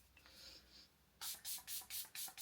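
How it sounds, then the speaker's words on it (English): Five quick hissing spritzes of a makeup setting spray in even succession, close and fairly loud after a quiet start. "Another spritz of this spray."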